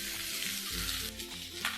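Soaked flattened rice (poha) goes into a sizzling pan with onion and is stirred, a close, steady crackling hiss with soft stirring scrapes.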